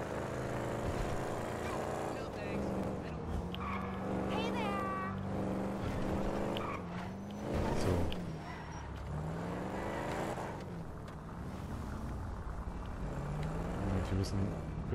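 A car driven in the video game GTA V, its engine droning and rising and falling in pitch as it accelerates along a road, heard steadily under someone talking over it.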